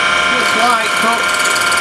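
A bowl gouge takes a light cut on spinning wood on a lathe while a cabriole leg is being turned, giving a steady close scraping whir with a faint ratcheting texture throughout.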